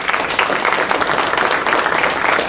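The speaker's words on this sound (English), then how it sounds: "Mercedes Acuna, let's give her a round of applause." Audience applause at a conference session, continuous dense clapping from a crowd, loud and steady throughout with no pause.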